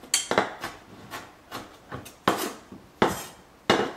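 A knife dices tomato on a cutting board for guacamole, giving sharp, uneven chops with clinking knocks in quick bursts and short pauses, close and fairly loud, without speech.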